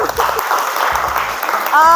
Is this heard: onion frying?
no